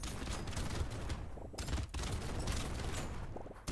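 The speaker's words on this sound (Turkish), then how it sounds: "Roket atarlarla dalıyorum" Rocket launchers fire nonstop in the arena game Brotato, a dense rapid barrage of blasts and impacts forming a constant loud roar, with no talk.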